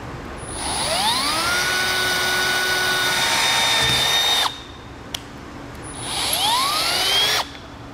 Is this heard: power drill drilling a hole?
yes